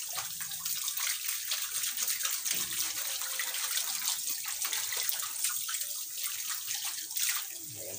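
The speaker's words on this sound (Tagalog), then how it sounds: "aking hugasin yung plato ng mapaglagyan" Steady running tap water splashing over a plate being washed in a sink, continuous and moderately close, with small clatters as the dish is handled and no talk.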